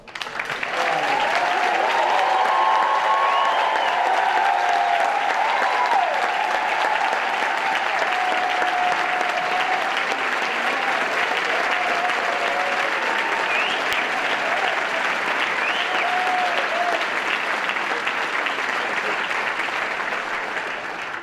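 A large conference audience at the National HBCU Week Conference applauds the 2019 White House HBCU Competitiveness Scholars as they stand, a sustained, dense wash of clapping that holds steady for about twenty seconds, with a faint voice briefly over it.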